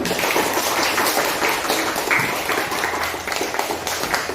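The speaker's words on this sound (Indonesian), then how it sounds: "Kasih tepuk tangan untuk Surya." Classroom applause in an Indonesian school lesson, a few seconds of steady scattered clapping from students at moderate volume, with faint voices underneath.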